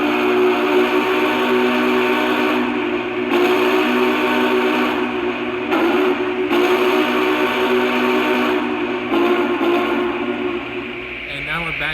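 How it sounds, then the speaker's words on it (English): A Lionel Vision Line Union Pacific Big Boy model locomotive sounds its steam whistle up close, a loud sustained multi-tone blast holding steady for about eleven seconds with brief dips before it cuts off near the end. "Here's a close-up shot of the whistle"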